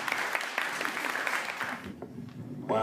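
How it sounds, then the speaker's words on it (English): An audience at a Sweet 16 party applauds to welcome a performer named Warren Fisher, a moderate burst of clapping that thins out after about two seconds. "I'd like for you all to put your hands together for Warren Fisher"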